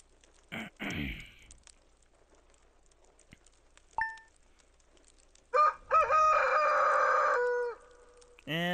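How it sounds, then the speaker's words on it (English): Rooster crowing in Stardew Valley, a loud drawn-out cock-a-doodle-doo near the end preceded by short clucks and a brief chime, with quiet gaps between. "And the rooster crows."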